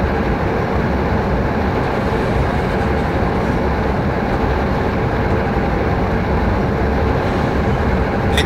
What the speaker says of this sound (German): Lok hat ganz schön zu kämpfen.